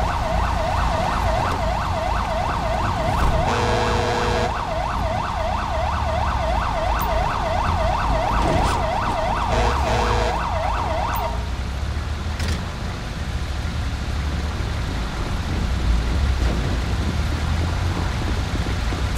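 An ambulance siren in the video game GTA V wails loud and close in a fast repeating cycle for about eleven seconds, then cuts off, leaving steady traffic and engine rumble.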